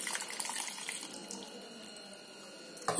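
Water runs from a kitchen tap in a steady, close splashing stream for red gram chutney, then cuts off with a brief knock at the end.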